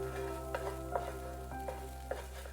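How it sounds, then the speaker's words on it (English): Extra firm tofu sautéing in a pan with a soft continuous sizzle, punctuated by several light stirring scrapes and taps at irregular intervals, over a steady low kitchen hum. "Extra firm tofu. Saute for another couple of minutes."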